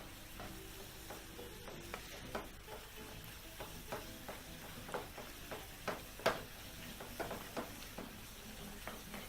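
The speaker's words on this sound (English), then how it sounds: "So proceed to mix everything together in your pan." A turmeric masala mixture stirred in a pan, with repeated scraping and clicking strokes against the pan over a quiet sizzle, close and fairly soft.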